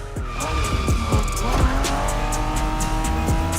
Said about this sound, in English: Are you familiar with the Honda you're driving? The NSX isn't your regular street car.